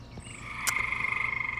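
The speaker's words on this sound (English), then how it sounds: "I stepped out one night and recorded the frogs, and it was so loud that it would literally hurt your ears" Frogs croak at night on Misty Mountain Farm in a loud, dense chorus, with a rapid pulsing trill that grows stronger over the second half, close and with no voices.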